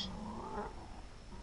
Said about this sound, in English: Not gonna lie, Dylan, my cat is very sexy.